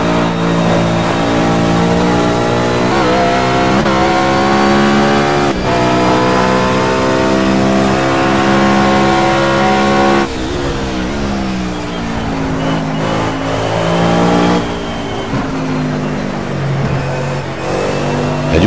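A Mercedes CLK LM race car accelerating in the racing game Project CARS: a loud, close engine revs hard through rising pitch sweeps, with sharp drops at gear changes, continuing throughout.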